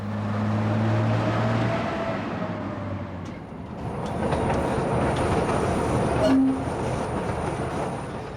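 A train climbs a mountain railway in the Andes at about 10,000 feet, rumbling and clattering steadily along the track, its heavy mechanical noise rising and falling, with faint squeals and a brief high tone.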